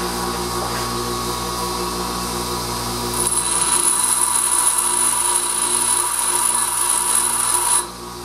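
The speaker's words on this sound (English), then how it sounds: "I don't really want to change the angle, I just want to get a finer grind on it." A cutting tool is ground to a finer edge on a running machine, producing a steady whirring drone that is joined partway through by a high grinding whine, continuous and close until it drops off near the end.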